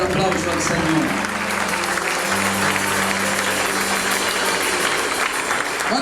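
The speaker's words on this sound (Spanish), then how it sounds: "¿Cuántos dan un fuerte aplauso al Señor?" A church congregation breaks into a strong, steady round of applause during a Spanish-language service, the clapping dense and sustained throughout with low voices underneath.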